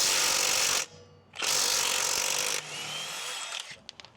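A Milwaukee M12 stubby 3/8-inch impact wrench, model 2562-20, spins off lug nuts in two loud, close bursts of rapid hammering whir, followed by a lower ratcheting spin-down and a few small clicks.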